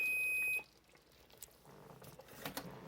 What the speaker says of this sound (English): Timer went off.